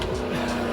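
A race car at Laguna Seca gives a brief, loud burst of engine revving with a sharp tonal whine, heard alone for under a second.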